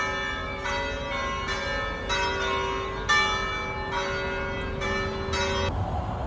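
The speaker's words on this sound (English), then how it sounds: "I could be here while the bells are ringing." Church bells ring at six o'clock in an Italian town, a series of bright, resonant strikes in a steady rhythm, each ringing tone sustaining into the next, moderately distant and alone without talk.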